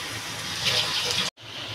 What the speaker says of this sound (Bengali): আমি চালটা ধুয়ে নিচ্ছি, গোবিন্দভোগ চাল আছে।